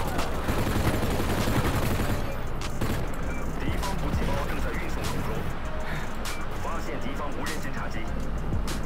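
Rapid gunfire in Call of Duty Online, dense bursts of near, loud shots rattling continuously throughout, with someone talking over the shooting.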